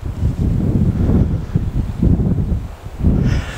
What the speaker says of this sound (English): the wind really isn't that strong